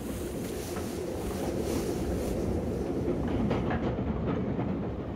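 A train runs steadily on its rails, a continuous loud rumble with faint rhythmic clatter and rushing noise, heard from inside the carriage without voices.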